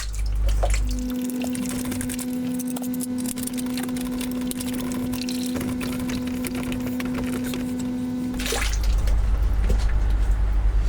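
Water drains from a Tempest grow tank in a steady rushing stream for several seconds alongside a sustained mechanical hum, with low rumbling before and after.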